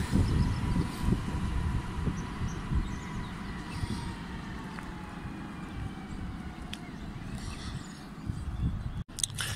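A PKP Regio passenger train, electric multiple unit, rumbles into a station on a Szczecin Główny to Piła Główna service, steady low rolling noise with wind buffeting the microphone and a faint high squeal, close and continuous.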